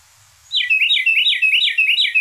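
Carolina wren song from a recording, six or so quick rolling two-note phrases repeated in steady rhythm, loud and close, beginning abruptly after a brief quiet start.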